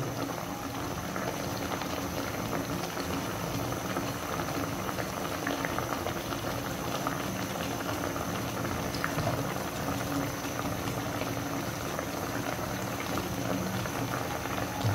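Paksiw na galunggong, a fish stew, boils steadily in a pot, giving a continuous close bubbling and simmering hiss that holds at an even level throughout with no talking.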